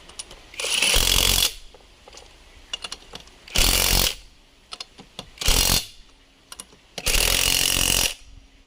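A power tool, likely an impact wrench, tightens wheel nuts during a puncture repair in four loud separate bursts with quiet gaps and small clicks between them.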